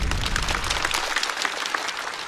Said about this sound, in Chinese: 再次掌声送给曹国